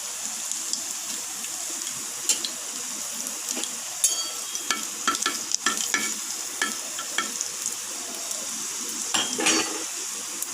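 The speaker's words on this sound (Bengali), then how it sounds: "রসুন কুচি দিয়ে দিচ্ছি তেলে।" Chopped garlic fries in mustard oil on a hot tawa, a close steady sizzle broken by repeated scraping and clinking as a spatula stirs against the metal, no talk.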